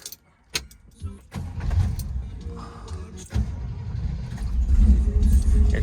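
A 1968 Camaro's carbureted V8 with a Holley 580 CFM single-feed four-barrel cranks with a few clicks, then fires and settles into a rough, rumbling idle that grows louder and steadier, close by.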